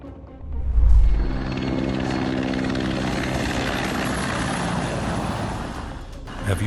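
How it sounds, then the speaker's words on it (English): Low-flying helicopter passing close and loud, a deep rotor rumble swelling early then holding as a steady, throbbing drone with broadband engine roar. "Have you ever seen a low-flying helicopter like that?"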